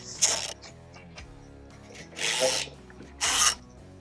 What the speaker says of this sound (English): Remove 3 fasteners holding the steel bracket to the vehicle. Use a 15mm socket and an extension to gain access.